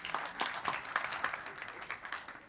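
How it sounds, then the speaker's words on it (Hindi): Audience applause at a Bollywood trailer launch for Bhaiyya Ji, a steady patter of many hands clapping at moderate distance, sustained without a break and fading slightly toward the end. "शबाना जी के लिए एक बार जोरदार ताली होनी चाहिए"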